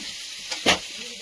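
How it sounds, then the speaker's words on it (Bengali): Potatoes frying in oil in a pan as ginger garlic paste goes in, a soft continuous sizzle with a short louder hissing burst midway, close and without speech. "আলুটা ভাজা ভাজা হয়েছে, এবারে আদা রসুন করে দিয়ে দেবো।"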